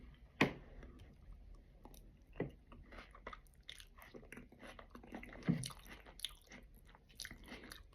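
Someone eats mashed green plantain with egg and fish, producing quiet, close chewing and soft bites with occasional sharper crunchy clicks, no talking.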